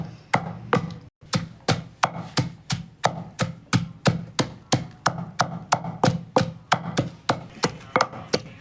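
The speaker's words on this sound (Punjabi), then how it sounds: "ਜੇਕਰ ਤੁਸੀਂ ਇਸ ਤਰੀਕੇ ਦੇ ਨਾਲ ਕੁੱਟੋਗੇ ਧਨੀਆ ਕਦੇ ਵੀ ਕਾਲਾ ਨਹੀਂ ਹੋਊਗਾ ਜੀ" Fresh coriander is pounded for green chutney in a steady rhythm of about two dull, heavy thuds per second, close and loud, continuing for several seconds without talk.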